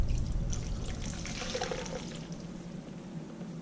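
Seafoam additive glugs and trickles into the fuel tank of a 1997 S10 truck, a soft, close pouring sound that thins to a faint dribble.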